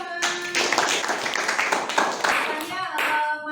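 Schoolchildren in a classroom clap their hands in a brisk, steady burst of applause lasting a few seconds, with a voice speaking over it near the start and end.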